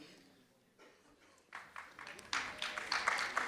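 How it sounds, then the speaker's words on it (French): Audience applause at a talk event against poverty-shaming, starting faint and swelling into steady clapping that grows louder over the last couple of seconds. "Et ils applaudissent."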